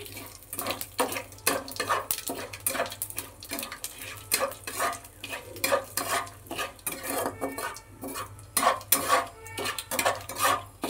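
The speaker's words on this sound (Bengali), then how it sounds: "আর গোটা গরম মশলা ফোড়ন দিচ্ছি তেলের ওপর। এবার একটা তেজপাতা দুভাগ করে দিলাম, একটু এটা নেড়ে নিচ্ছি।" Repeated scraping and clinking of a spoon stirring in a pan, an uneven rhythm over a soft sizzle of whole garam masala and a bay leaf frying in oil.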